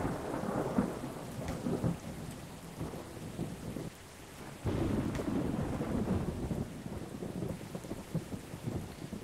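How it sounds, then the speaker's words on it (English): A thunderstorm in the airport-building game Airport CEO: steady heavy rain hisses throughout, with low rolling thunder swelling and fading in several waves, no voices heard. "Wow, that's some serious thunderstorms."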